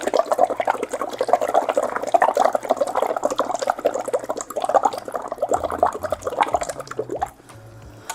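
Breath is blown through a tube into a cup of water, making a continuous bubbling, gurgling burble that lasts several seconds before stopping abruptly, with a quieter tail at the end.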